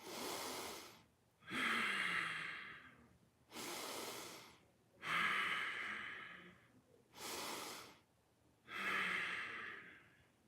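Six deep breaths of a breathwork exercise, each loud inhale followed by a long rushing exhale, close and in an even slow rhythm with short pauses between, with no talking.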